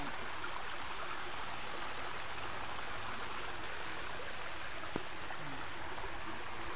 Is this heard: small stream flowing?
yes